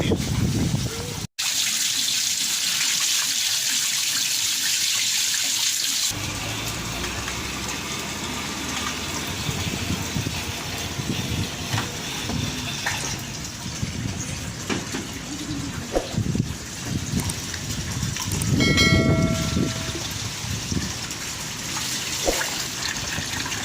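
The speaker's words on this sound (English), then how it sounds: "Taking out the water from here" Water gushes and pours steadily out of an aquaponics fish container, a continuous rushing flow with shifting splashes and a brief louder burst near the end.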